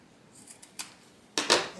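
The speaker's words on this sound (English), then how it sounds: "We'll go ahead and cut back the zipper" Scissors cut back a zipper on a sewn fabric water bottle tote bag: a few light snips, then two louder, crisp cuts close by.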